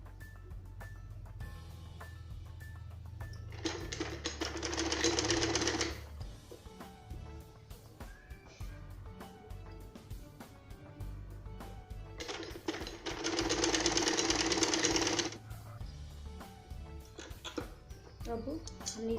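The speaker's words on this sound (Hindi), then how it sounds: "इस पर सिलाई लगाना शुरू करेंगे हम" Sewing machine stitching strips of fabric for a tucked belt blouse, two steady runs of rapid mechanical whirring separated by pauses, close, with someone talking throughout.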